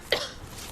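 A single short cough from a person with a bad cough, one sharp burst followed by quiet room tone.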